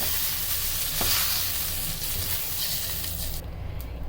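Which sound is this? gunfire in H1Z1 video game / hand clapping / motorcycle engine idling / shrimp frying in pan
shrimp frying in pan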